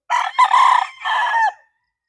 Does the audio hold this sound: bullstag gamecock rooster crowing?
yes